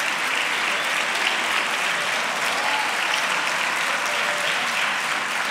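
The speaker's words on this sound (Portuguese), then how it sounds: "merece terminar com chave de ouro, com um grande aplauso" Sustained audience applause for dentist Carlos Adriano at an honour ceremony in Lisbon, a dense steady roar of many hands clapping throughout without a break.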